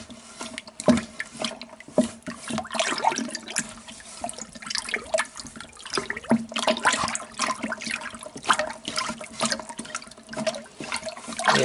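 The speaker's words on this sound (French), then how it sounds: "Et on rajoute l'eau qui manque." Mineral water poured into mead must for a sparkling melomel, a continuous splashing, gurgling pour with irregular bursts, close and fairly loud, with no talking.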